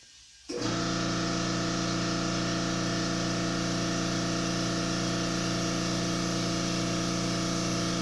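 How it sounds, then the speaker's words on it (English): A very small air compressor runs steadily while new tires are being inflated, starting abruptly after a brief quiet moment and then holding a constant, close, even hum with no talk. "Let the compressor air up."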